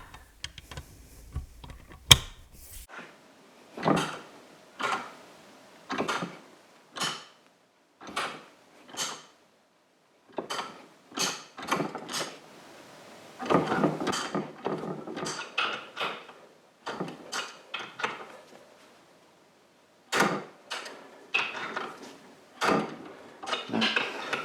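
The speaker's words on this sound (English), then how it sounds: "let's see if that will get hold of it, a flank drive socket" Snap-on flank drive socket and wrench working a rounded-off, damaged bolt, with a long run of short, close clicking and scraping strokes in uneven bursts and brief pauses between them.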